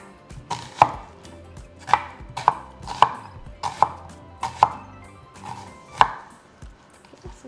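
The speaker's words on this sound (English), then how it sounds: "we're just going to be cutting them into strips" A knife cuts onion into strips on a cutting board, giving sharp, close, evenly spaced chops, about eight in a loose rhythm, with quiet gaps between strokes.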